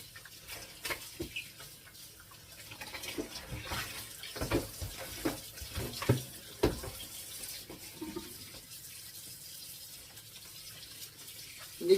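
Beef lung is rinsed under a running kitchen tap, with water splashing and gurgling fairly softly alongside scattered clicks and knocks as the meat is handled.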